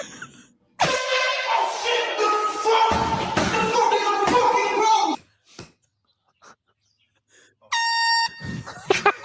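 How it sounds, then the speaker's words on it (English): A loud, sustained air horn blares for several seconds, then cuts out; after a short silence a second shrill horn blast sounds briefly. "Who around here loves a good air horn prank?"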